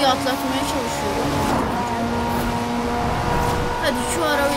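Car engine revving and accelerating hard while overtaking traffic on a road, a loud, steady drone with shifting pitch over continuous road noise, close and sustained throughout, with background chatter.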